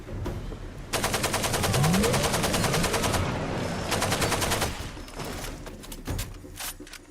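A golden AK-47 fires in a video game: a long, loud, rapid automatic burst lasts several seconds, followed by a few scattered, fainter shots.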